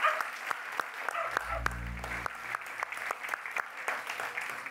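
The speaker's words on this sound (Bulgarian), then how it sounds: "Моля за аплодисменти за нея." Applause from an audience welcoming a speaker onto a stage at a talk about plants, moderately distant clapping continuing steadily, with a low hum and a few louder sharp claps.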